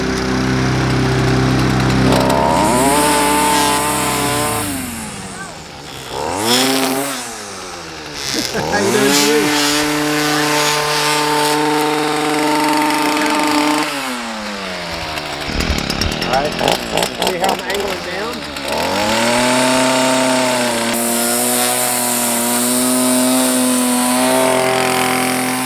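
Petrol string trimmer revving and cutting grass outdoors, its loud whining engine rising and falling in repeated bursts, with a person speaking over it at times.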